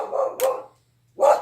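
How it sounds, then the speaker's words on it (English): A pet dog barks nearby indoors, giving two quick barks, a short pause and then a third bark, each one sharp and clear with no talk over them. "that's just my dog barking and I don't know how to shut her up"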